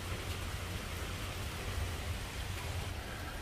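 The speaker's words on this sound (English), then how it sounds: "Look at that rain. And it's calmed down. It was just pouring hard a minute ago." Rain falls hard and steady outdoors in a continuous broadband hiss that fills the whole moment, with no talk.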